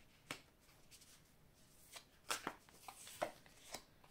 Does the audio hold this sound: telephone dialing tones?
no